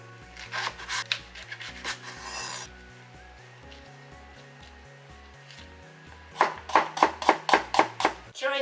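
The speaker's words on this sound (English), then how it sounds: "For shiitake mushrooms, remove the tip of the stem and tear them by hand again." Fresh shiitake mushrooms torn by hand after trimming the stems: bursts of rough, fibrous ripping close up, a few strokes early, a pause, then a quick run of repeated tears.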